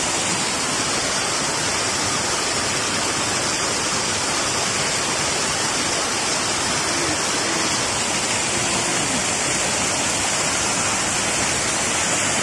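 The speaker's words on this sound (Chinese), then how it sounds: "阿里棒瀑布到了，阳明山最大的瀑布。" Ali Bang waterfall, the largest falls on Yangmingshan, running heavy in the high-water season, gives a loud, dense, unbroken roar that fills the whole stretch with no voices over it.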